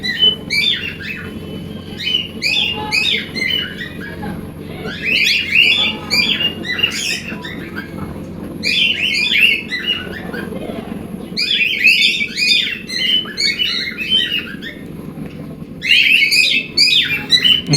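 Cockatiels in breeding cages give repeated bursts of shrill chirps and squawks, clustered in rhythmic flurries over a low, steady background hum.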